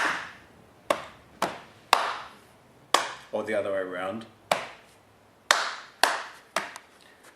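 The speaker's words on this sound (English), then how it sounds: "think about doing white notes, clapped black notes on your knees, like this" Rhythmic hand clapping alternating with pats on the knees, used as a piano teaching exercise. Sharp, close single hits fall in a steady pulse, and a voice speaks briefly between them.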